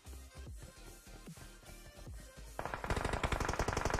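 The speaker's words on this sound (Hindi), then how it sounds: "वहां से फायरिंग की साउंड आई है" Gunfire in PUBG Mobile: scattered single shots and bursts at first, then a dense rapid automatic volley that grows louder toward the end, with no speech.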